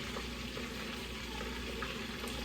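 Flounder frying in a pan gives a steady, even sizzle and crackle throughout, close by and fairly quiet, with no talking.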